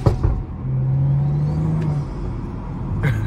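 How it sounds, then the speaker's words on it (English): BMW F30 335i engine revving up with a steady rising drone close by, a brief tonal whine under a broad rumble, no talking. "He wants me to rev it."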